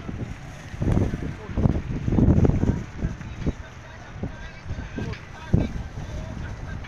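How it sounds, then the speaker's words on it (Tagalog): Gusty wind buffets the microphone in uneven bursts of low rumble on a fishing trip, with a faint background hiss and brief bits of talk. "malakas yung hangin mga ka-idol"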